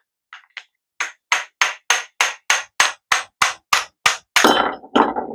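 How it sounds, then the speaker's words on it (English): A hammer strikes a cartridge bottom bracket bearing repeatedly in a steady rhythm to take it apart, a dozen sharp ringing blows close by, ending in a couple of heavier clanks. "for like 10 seconds with a hammer"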